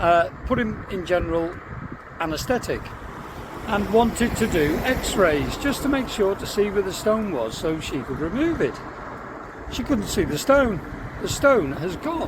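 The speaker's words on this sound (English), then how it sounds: "Sorry about the traffic." Steady road traffic rumbles in the background outdoors while someone talks continuously in the foreground.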